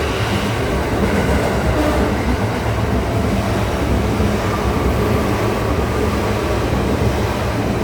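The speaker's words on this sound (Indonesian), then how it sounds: "Kereta lewat." A train rolls past with a steady, loud rumble and faint rhythmic clatter of wheels on rails, sustained and close throughout with no speech.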